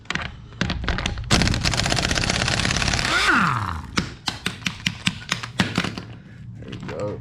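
A pneumatic air tool driven by a compressor tank, used during a car brake line repair, rattles in a sustained loud burst and then gives a string of short, sharp hammering taps, close by.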